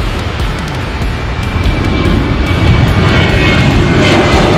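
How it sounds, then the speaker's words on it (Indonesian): A Lion Air passenger airplane roars steadily with a broad jet-engine rumble that swells slightly louder toward the end, heard alone without talking. "Kita menemukan ini adalah pesawat Lion Air teman-teman."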